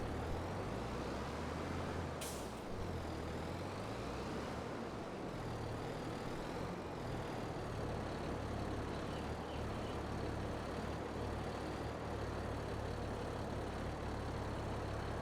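A tractor engine in Farming Simulator 22 runs as a loud, steady diesel drone throughout, with one brief sharp hiss early on.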